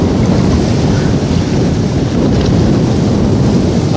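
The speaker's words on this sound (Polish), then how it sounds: "zamiast tego szumu, huku wiatru, który się tutaj zebrał i wieje," Strong wind buffets the microphone by the water, a loud, unbroken roar of gusting noise with a low rumble and no pauses.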